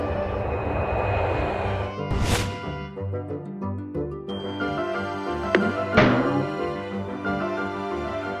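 A passenger airplane engine drones steadily throughout a long flight, a constant loud hum with a couple of brief whooshing swells partway through.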